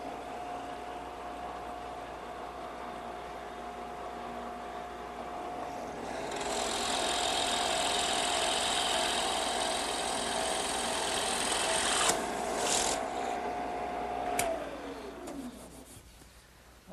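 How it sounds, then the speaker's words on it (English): A drill press with a 1-inch bit boring into wood: the motor hums, then a louder whirring cut rises and holds for several seconds before the spindle winds down. "I just put a 1-inch bit in my drill press"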